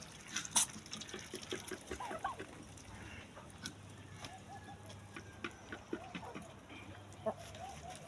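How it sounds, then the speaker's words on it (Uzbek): A small rooster in a backyard poultry setting gives a few short, faint clucks and calls among other distant birds, with scattered clicks and light background noise; no speech is heard. "Etik kiygan xo'rozcha."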